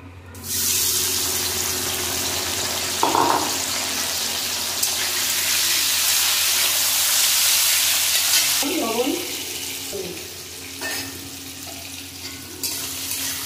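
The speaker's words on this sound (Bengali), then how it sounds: "তেল গরম হয়ে গেছে, মাশরুমগুলো ভেজে নেব।" Loud, continuous sizzling of mushrooms frying in hot mustard oil, close up, with a few scraping stirs partway through.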